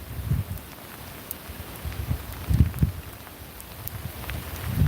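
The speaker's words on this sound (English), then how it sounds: "That looks like rain, but that is ice." Freezing rain falls steadily during an ice storm, a soft continuous patter with low rumbling gusts against the microphone and occasional faint ticks of ice.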